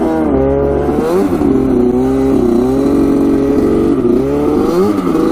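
Yamaha Banshee ATV engine revving hard and steadily while its wheels spin in snow, loud and close, the pitch rising and falling with throttle throughout.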